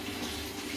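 Water outlet of an aquarium filter in a Malawi cichlid tank churning and aerating the surface, a steady close gushing splash with no voices.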